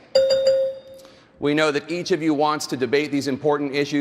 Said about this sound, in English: a bell will also sound like this